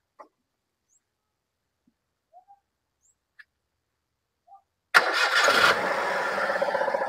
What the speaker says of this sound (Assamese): ষ্টাৰ্টটো দিয়াচোন, মই ষ্টাৰ্টটো দেখাই দি আছোঁ।